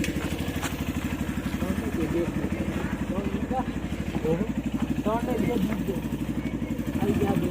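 A motorcycle engine idling close by, a steady low throbbing pulse running the whole time, with people talking over it and dogs set off barking by the noise.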